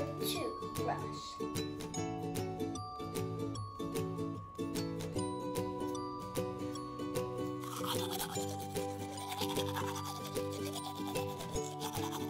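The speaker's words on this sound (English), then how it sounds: "T is for toothbrush." Toothbrush scrubbing on teeth, a steady rhythmic brushing rasp heard close up under a bright music background.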